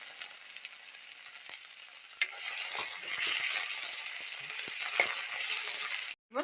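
Ginger and garlic sizzling in hot oil in a pan for a jackfruit curry, a continuous crackling fry with scattered pops and a brief stir of the spatula, moderately close and free of talk.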